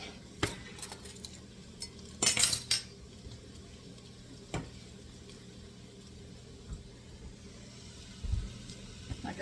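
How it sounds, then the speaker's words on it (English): Kitchen clatter as a cooking pot comes off the stove while making choucroute garnie: scattered metallic clinks and knocks, one brief bright clang near the middle, over a low steady background hum. "I have to take the pot off"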